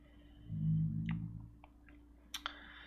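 Several sharp, light computer mouse clicks land close by in an uneven sequence, two of them in quick succession near the end, over a faint steady hum after a soft low rumble.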